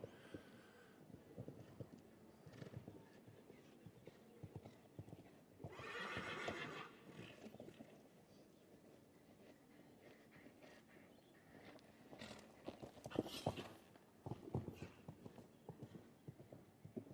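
Horse hooves clip-clop through a 1.45 m show jumping round, a steady rhythmic beat carried under arena ambience with brief louder bursts, and a whinny rises partway through.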